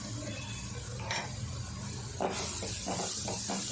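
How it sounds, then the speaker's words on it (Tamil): Chili powder and turmeric powder sautéing in oil on a low flame for a potato fry, a soft steady sizzle with stirring scrapes and clatters near the end. "மிளகாய் தூளும் மஞ்சள் தூளும் சேர்த்துட்டு அரை நிமிஷம் லோ ஃப்ளேமில் வதக்கி விட்டுடலாம்"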